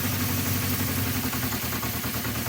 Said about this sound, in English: when it goes to like a sort of a low idle, you can hear it's a little bit out of balance.